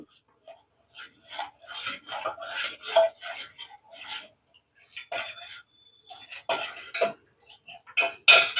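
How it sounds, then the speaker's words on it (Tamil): A spoon scrapes and stirs rice flour batter in a pot on the stove, in rapid irregular rasping strokes with brief pauses, close and clear. "கைவிடாமல் நல்லா மிக்ஸ் பண்ணிக்கோங்க"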